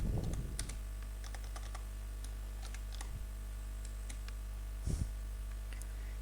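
Keys clacking on a computer keyboard in an irregular burst, with a louder flurry at the start and scattered single taps afterward, close and clear over a steady low hum.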